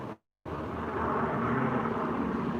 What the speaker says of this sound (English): I hear at least one helicopter above